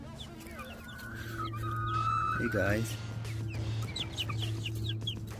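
Backyard chickens cluck and chatter in short bursts close by, with a man's brief greeting spoken over them and a steady low hum running underneath.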